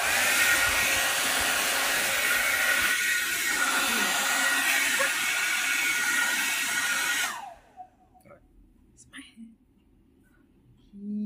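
A Philips 5000 series hairdryer (BHD510/03) blows with a loud, steady rushing whoosh close by for about seven seconds, then switches off, leaving quiet room noise and faint sounds before it briefly starts again.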